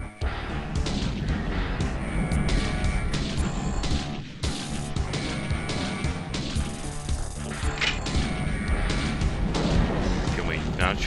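Gunfire in the System Shock video game, dense loud bursts of shots and crashing impacts packed tightly across the whole stretch, with a voice talking over the din.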